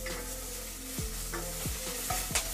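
Drumstick leaves sauté in oil in a pan, a continuous close sizzle broken by several sharp scraping stir strokes of a spatula, no voices.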